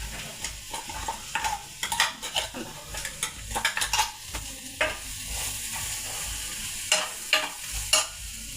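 A crushed paste of green chili, curry leaves, garlic, cumin and pepper hits hot oil and fries with a steady crackling sizzle, broken by repeated scrapes and clinks of a spoon stirring in the pan, close and moderately loud.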